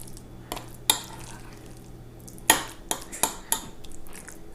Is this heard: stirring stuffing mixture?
yes